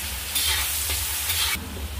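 Chopped onion sizzles loudly in a pan of oil while being stirred, a dense frying hiss swelling with a few scraping strokes, then easing slightly near the end; no one speaks.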